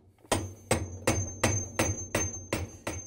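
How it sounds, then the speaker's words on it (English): A hammer pounds the tub hub nut loose on a GE washer: eight sharp, ringing metal strikes at a steady, even pace, close and loud with no talking. "we're going to use a hammer and pound it loose"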